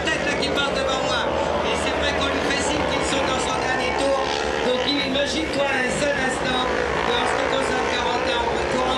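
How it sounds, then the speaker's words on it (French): Sprint car engines roaring around a dirt track at a race meeting in St Vincent des Landes, a constant loud, dense drone of several engines blending together, with a commentator talking over it throughout. "c'est juste Victor Brosseau, le sprintcar au numéro 5, qui occupe cette 2e place"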